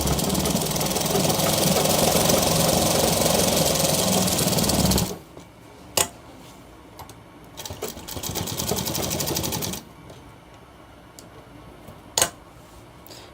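A sewing machine runs hard along the edge of a shirt near the collar in one loud, steady burst, then stops, leaving scattered clicks and a shorter, softer run.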